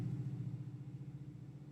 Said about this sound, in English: The loud-ass truck came back.